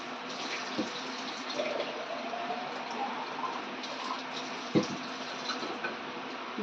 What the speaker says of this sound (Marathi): पुन्हा एकदा पाणी ह्याला स्वच्छ धुवून काढायचे